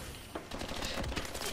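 Video game gunfire during a ranked multiplayer match, rapid bursts of shots crackling loudly and continuously with no pauses, close and dense like automatic fire.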